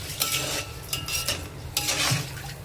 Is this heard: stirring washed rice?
yes